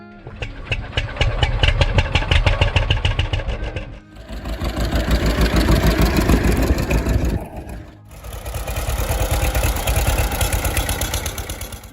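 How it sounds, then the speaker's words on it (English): A John Deere Model H tractor, the smallest of the letter series built 1939–1947, runs with a steady rapid engine chug in three loud sections, each rising and fading, with brief breaks between them and no talk. "John Deere Model H."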